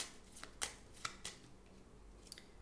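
Oracle cards being shuffled by hand, a series of soft, quiet riffling snaps spaced irregularly over a faint room background.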